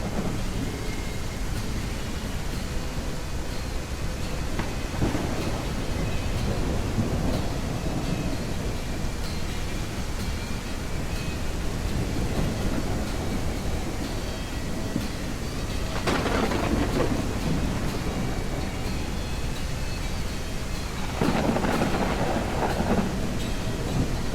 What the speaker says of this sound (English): love the thunderstorm effects. I'm not gonna lie. It's a really awesome effect.